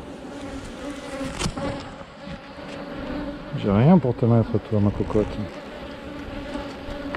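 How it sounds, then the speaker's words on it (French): Honeybees buzz in a constant droning hum, while a person speaks softly over the swarm partway through. "Les abeilles elles vont sortir là."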